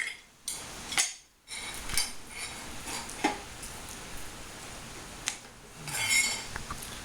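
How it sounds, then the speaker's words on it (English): Scattered metallic clinks and light knocks while the impeller housing is removed from a Johnson/Evinrude outboard lower unit, quiet and intermittent with brief pauses between handling sounds. "next you're going to want to remove your impeller housing, your impeller, and your impeller pump plate housing"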